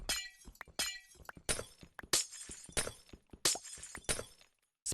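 Repeated Minecraft glass blocks smashing, with about eight sharp, close shattering bursts in an uneven rhythm, each trailing into brief tinkling, no speech.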